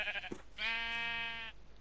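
A Minecraft sheep gives a short bleat followed by a longer, wavering baa, close and clear, with quiet background between the calls.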